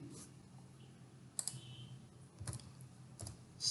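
Code is typed on a computer keyboard, with scattered key clicks in short bursts and pauses, fairly quiet against a low background hum.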